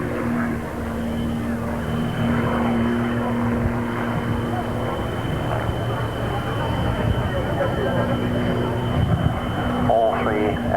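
Three propeller aircraft fly aerobatics, recovering from a manoeuvre, at the 1992 Humberside air show. A steady, loud engine drone fills the whole stretch beneath an announcer's continuous commentary.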